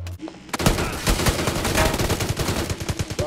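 Rapid automatic gunfire in the mobile battle royale game New State Mobile rattles out in a dense, loud stream of shots lasting for several seconds.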